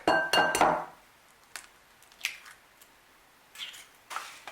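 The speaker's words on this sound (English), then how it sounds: "I'm going to go ahead and add 1 egg." An egg is cracked and added to a mixing bowl for African drop doughnuts, with a few sharp, close clinks and taps against the bowl separated by quiet pauses.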